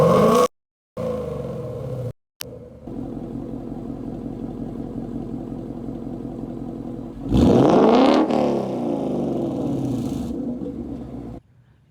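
A 2019 Mustang GT V8 with active exhaust revs in quiet and then track mode, with short muted blips at first and later a loud, rising, throaty rev that rumbles back down toward idle.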